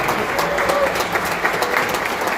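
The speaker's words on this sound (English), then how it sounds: "Let's give a round of applause to Wayne, the sound guy" Audience applause at a Kosovo Independence Day celebration in New York City, a dense steady clapping from a crowd filling the whole stretch, loud and continuous with no talk over it.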